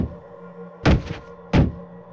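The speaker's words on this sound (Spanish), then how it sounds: "Incluso llegaron a darle patadas a la puerta." Two heavy, booming kicks strike an apartment door about a second apart, the first with a rattling tail, each loud and close against near silence.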